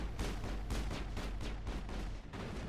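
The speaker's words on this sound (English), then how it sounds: "And keep shooting." Mass Effect combat gunfire: dense, rapid shots and booming blasts pile up in a continuous loud barrage, close and uninterrupted, with no talk over it.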